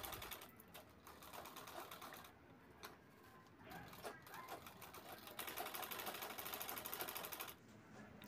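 Sewing machine stitching piping onto a designer handbag, a fairly quiet stitching whir that runs in bursts with short pauses and grows busier and louder toward the end.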